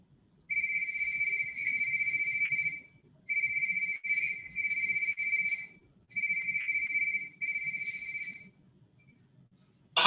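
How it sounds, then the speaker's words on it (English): A cell phone ringtone isolated from a mixed recording rings out clearly in repeated two-tone electronic bursts with short gaps, loud and alone over a faint low background hum, ending with a brief click. "Now let's listen to the separated cell phone."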